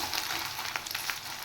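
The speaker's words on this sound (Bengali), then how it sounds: "এবার নারকেলটা আমি লাল করে ভেজে নেব।" Chopped coconut fries in a pan, a steady close sizzle of hot oil with a few soft crackles and stirring scrapes, no talk over it.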